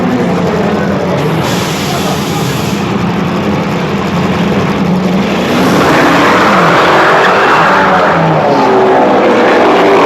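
A British Touring Car Series race car slithers across a slippery track, its engine roaring loud and close without a break, with skidding hints as the pitch rises and falls.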